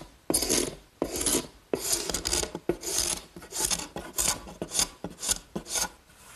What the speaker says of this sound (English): The scraper is really the best way.